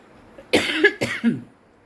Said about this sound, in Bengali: মরিচ বাজতেছে তো তাই কাশি উঠছে